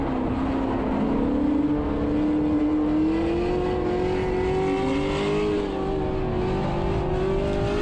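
A BMW E36 M3 at full throttle on a race track during the Lone Star Bash, its engine droning loud and steady from inside the cabin as the pitch slowly climbs.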